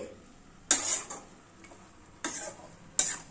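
A utensil stirs vegetarian cabbage curry in a pan, three sharp metallic scrapes and clinks standing out over a quiet sizzle.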